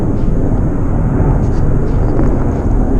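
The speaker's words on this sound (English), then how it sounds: "that right there would be V22 Ospreys. Stack of 3." Three V-22 Osprey tiltrotor aircraft fly by, giving a loud, continuous deep roar and rumble that fills the whole stretch with no break.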